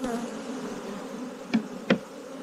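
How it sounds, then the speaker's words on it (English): Honey bees buzz angrily in an opened hive, a steady close drone that stays level throughout, with two short sharp knocks near the end. "Some buzzing, some anger."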